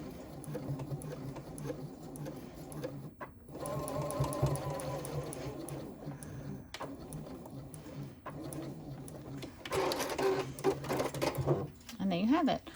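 A sewing machine stitches the side seam of an interior zipper pocket with lining close by, its steady mechanical whir running for several seconds at a time with brief pauses, under a voice talking.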